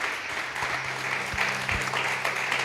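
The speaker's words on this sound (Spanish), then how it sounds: "Dale un aplauso, dale un aplauso." A church congregation applauds steadily in a dense, fairly quiet roar of many hands, with a few low thumps underneath and no talking.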